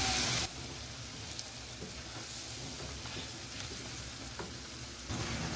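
Chopped potatoes being mixed into fried masala in a pan for aloo moongre sabzi, giving a steady close sizzle with louder bursts at the start and end, no voices.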